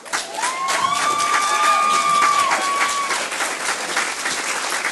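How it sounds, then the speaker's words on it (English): A large audience applauds delegates at a multigenerational forum, a dense, steady wash of clapping with scattered cheers and a sustained whistle-like tone, loud throughout the full length. "And can we all give them a round of applause?"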